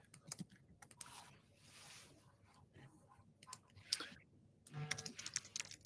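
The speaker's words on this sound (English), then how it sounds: "can hear you type" Light typing on a computer keyboard, faint and intermittent, with scattered key clicks in short bursts against a quiet background.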